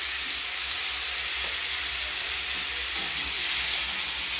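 Watermelon rind cooks in a pan with a steady, close sizzle and hiss of frying, broadband and even throughout with no talking.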